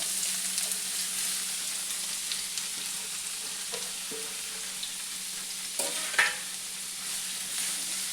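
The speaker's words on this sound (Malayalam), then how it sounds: "നമ്മുടെ എണ്ണ ചൂടായിട്ടുണ്ട്. നമുക്ക് ഈ സബോള എണ്ണയ്ക്കകത്തേക്ക് ഇട്ട് കൊടുക്കാം." Thinly sliced onions frying in hot oil, a constant crackling sizzle with occasional stirring scrapes and a sharper clink near the end, close up and without talk.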